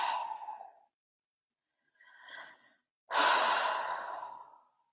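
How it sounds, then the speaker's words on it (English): Slow, deliberate breaths at close range: a soft inhale through the nose, a quieter pause, then a long, full exhale out through the mouth, with no talking. "in through your nose, out through your mouth."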